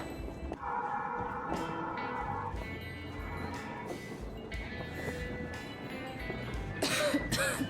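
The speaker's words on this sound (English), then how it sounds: "Damn coughing." Several dry coughs and throat clearing from a character in the video game Metro Exodus, over a steady rumbling background hum, with a louder burst of noise near the end.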